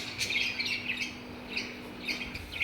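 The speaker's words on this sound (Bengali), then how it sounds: "দেখো পাখিগুলো ওই যে পাতা দিয়ে গিয়েছে, তুলসী পাতা খাচ্ছে আর চিল্লাচ্ছে" Small birds eating tulsi leaves chirp in short, bright bursts, several calls repeating at irregular intervals over a quiet, faint background hum.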